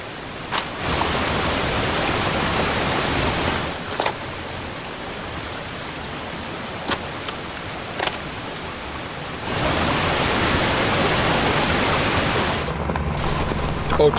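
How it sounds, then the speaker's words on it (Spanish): Water overflowing and cascading down Icelandic waterfalls among basalt formations, a dense, steady broadband roar that surges louder toward the end, interrupted by a few brief knocks. "El agua se desborda en cada rincón"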